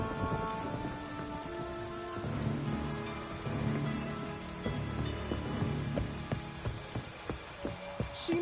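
Steady rain patters and splashes on surfaces in The Witcher 3, a continuous wash of drops with faint distant rumbles and soft tonal game ambience underneath.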